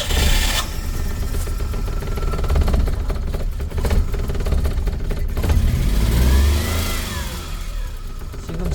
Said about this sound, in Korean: 지금 제가 악셀링을 좀 했는데 그래도 차가 많이 떠네요